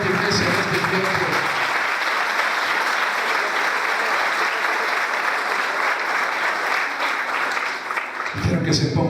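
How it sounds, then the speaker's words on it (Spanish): A church congregation applauds loudly and steadily, a dense sustained wash of clapping that fills the space, with a voice briefly audible at the start and end. "Aplaudan fuerte, iglesia, en este tiempo."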